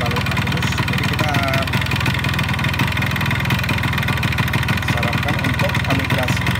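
A Yamaha RX King two-stroke motorcycle engine idles close by with a steady, slightly rough putter. Someone talks over it throughout.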